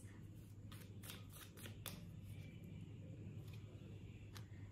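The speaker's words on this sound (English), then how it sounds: "let me pick out a few more cards" Tarot cards are shuffled and picked by hand during a love reading: soft papery riffling with a few crisp flicks near the start, fairly close, over a steady low hum, with no talk.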